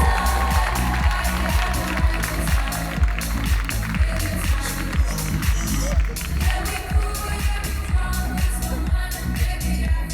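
Crowd applauding a young cosplayer at a cosplay contest during a Japan-themed convention, loud and sustained clapping with a rhythmic pulse running underneath, filling the whole stretch without letting up.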